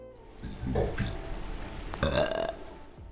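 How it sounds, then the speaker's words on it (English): A loud, drawn-out cartoonish burp sound effect plays twice in My Summer Car, set off by typing a command, two croaking belches about a second apart with no speech over them. "And if you type burp, this will happen."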